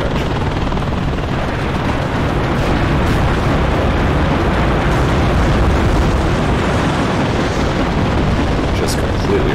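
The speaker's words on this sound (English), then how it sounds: "We're sending artillery all over the place." Artillery barrage in the Cold War real-time strategy game WARNO: a loud, dense, continuous roar of blasts and rumbling booms that merge into one unbroken wall of noise.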